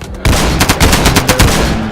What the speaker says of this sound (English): Gentlemen, open fire on that bear.